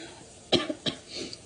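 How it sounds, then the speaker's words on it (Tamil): A person coughs while cleaning an oven with a chemical cleaner: two short, close coughs and then a softer throat-clearing rasp, heard alone. "அந்த மருந்துக்கு எனக்கு இருமல் வருது"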